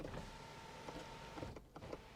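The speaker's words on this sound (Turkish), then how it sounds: "Bu arada sunroof perdesi de elektrikli çalışıyor." Electric sunroof shade motor inside a new Kia Sportage 1.6 Turbo, a steady faint whirring hum running throughout at low level with small clicks, heard up close in the cabin without talk.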